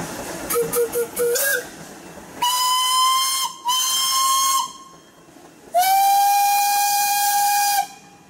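A 1911 30 horsepower Case steam traction engine at a pioneer engineers parade sounds its steam whistle in three loud, sustained blasts, the last the longest, after a few short hissing toots.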